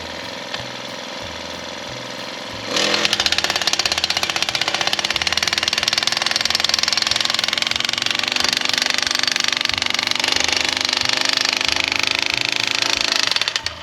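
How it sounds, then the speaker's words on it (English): A powered picket driver hammers a fence post into the ground, starting abruptly and pounding in a loud, rapid, continuous mechanical rattle for about eleven seconds before stopping. "now I'm just going to get the picket driver and drive it down"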